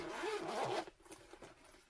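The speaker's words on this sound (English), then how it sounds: "I'm about to open a zip." A clothing zip pulled open in one quick continuous rasp lasting under a second, followed by a few faint rustles and handling noises in a quiet room.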